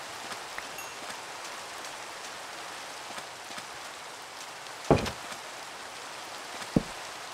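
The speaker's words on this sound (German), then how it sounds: "Und es regnet auch noch nicht so viel." Steady rain falls in the Minecraft video game, a continuous even hiss of moderate loudness with a couple of brief sharper knocks, and no talk.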